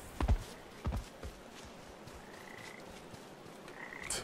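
Frogs croak in Papo & Yo, with a few loud, low croaks close by near the start, then quieter ambient noise and faint higher chirps afterward.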